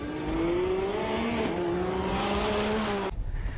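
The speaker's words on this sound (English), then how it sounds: "the sound of that angry wail of that V8 motor." A 2022 Nissan Patrol's V8 engine accelerates hard, its wailing note climbing steadily and loudly up through the revs before cutting off abruptly near the end.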